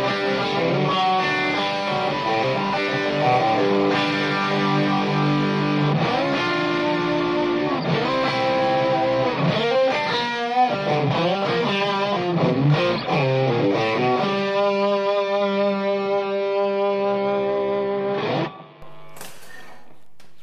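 Electric guitar, a TMG Scarlett through a Scarlett Love overdrive pedal, plays crunchy chords and sustained notes, loud and close, with the ringing tail stopping abruptly near the end.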